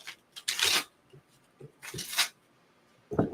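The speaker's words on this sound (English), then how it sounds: "shuffle the cards" A deck of playing cards is shuffled close by in a few quick riffling bursts with short pauses between them, soft and crisp, with no talking over it.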